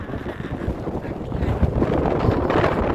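Strong wind blows during a rainstorm in Phnom Penh. It makes a loud, gusty roar that buffets the microphone in uneven surges, close and continuous.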